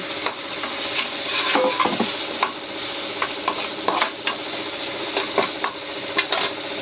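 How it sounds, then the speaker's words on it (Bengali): Grated tomato and browned onions fry over a high flame, a dense hiss broken by repeated stirring clicks and scrapes of a utensil against the pan. "টমেটোটা দিয়ে হাই ফ্লেমে ভাজবেন।"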